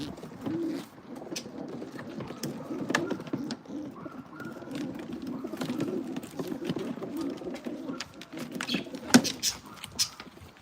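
Racing pigeons coo softly and continuously nearby, low murmuring calls mixed with scattered clicks, flutters and scuffling taps.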